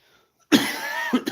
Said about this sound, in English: Why is it that my cough is still going?